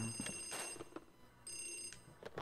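A telephone rings in the Luigi's Mansion video game, a few short electronic ring bursts spaced apart over a quiet background.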